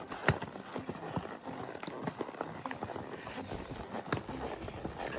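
Horse hooves clip-clop steadily along a pine-forest trail on a Wyoming trail ride, the hoofbeats near and rhythmic with a faint jingle of spurs, no talking.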